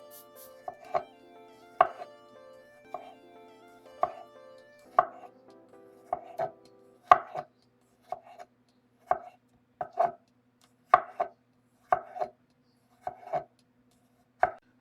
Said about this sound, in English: I'm just going to slice these and go one time. Okay, so I'm getting my fresh garlic slice.